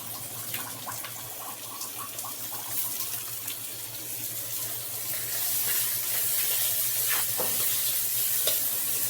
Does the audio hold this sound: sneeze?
no